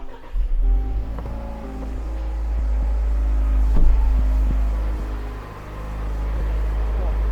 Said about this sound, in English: So let me go and start the car.